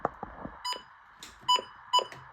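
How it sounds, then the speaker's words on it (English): A few short electronic beeps from a Midland WR100 weather radio, spaced irregularly, with faint clicks of button presses in between, close and fairly quiet. "These have the same button beeps."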